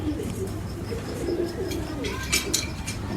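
Pigeons in a loft make repeated soft, throaty coos at close range, with a couple of brief louder scuffs later on, against a constant low background hum.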